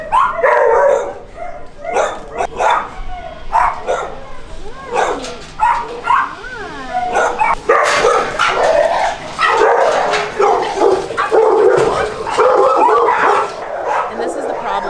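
Several dogs bark, yip and whimper at a husky rescue, with sharp repeated barks close by and a few howl-like cries, while a person talks over the noise throughout.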